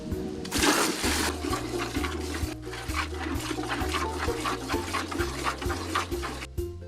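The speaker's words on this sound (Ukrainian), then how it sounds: "води набрати, щоб дійки помити її." Water runs and splashes into a container on a rural farmstead, drawn to wash a cow's teats before milking, a steady near pour with a louder gush at the start and no talk.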